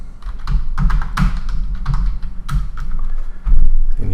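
Keys clatter steadily on a computer keyboard while a name is typed into a field of asset-management software, a close run of quick taps with a few louder strokes and no speech.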